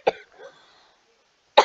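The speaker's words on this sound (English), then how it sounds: "my throat, I just coughed really bad." A person coughs hard twice, each a sharp, harsh burst, with a faint throaty sound trailing after the first and a short quiet gap before the second.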